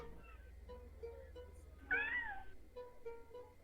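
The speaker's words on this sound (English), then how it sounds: "We can hear the cat" A cat gives a single short, clear meow midway through, close by over a faint low hum, with no talking.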